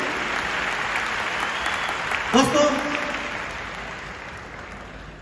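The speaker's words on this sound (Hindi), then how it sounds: "मैं चाहता हूं एक पूरे दिल से उनके लिए ताली होनी" Heartfelt audience applause at a business event stage, steady broadband clapping throughout with a voice speaking briefly over it midway.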